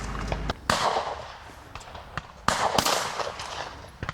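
Two loud shotgun blasts ring out at a clay shooting championship, each a sharp crack followed by a rolling outdoor echo. A few smaller, more distant pops sound between them.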